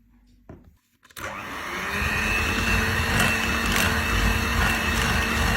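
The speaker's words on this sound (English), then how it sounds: "Meringue into butter and whisk." An electric whisk beats meringue into butter for Swiss meringue buttercream, starting after a couple of faint clicks and rising into a loud, steady mechanical whir that runs to the end.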